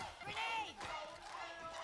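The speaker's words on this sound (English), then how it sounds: "The MIBR section of this crowd going nuts right now" A crowd section at a Valorant Game Changers Championship esports match erupts in a wild, sustained roar for MIBR after an ace, loud and steady with shouting voices throughout.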